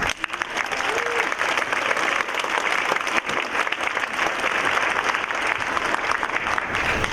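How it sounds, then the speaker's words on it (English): Warm audience applause at the Northern California Cherry Blossom Queen Program, a dense, continuous roar of clapping from a large crowd that holds steady and loud throughout, with no speech on top. "please give Mr. Kaz Naganuma a warm round of applause"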